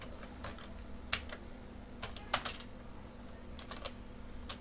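Soft, quick keystrokes on a computer keyboard, typed in short irregular bursts with a few sharper clacks over a steady low background hum, with no talking.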